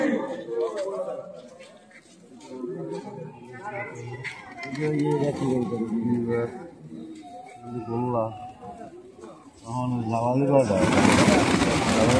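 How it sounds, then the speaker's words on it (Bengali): Jalali pigeons at the Shahjalal shrine coo in a crowded courtyard, soft repeated warbling calls rising and falling beneath steady voices talking nearby, with a louder rush of noise near the end. "শাহজালাল রহমতুল্লাহ আলাইহির মাজার দরবার শরীফে জালালি কবুতর।"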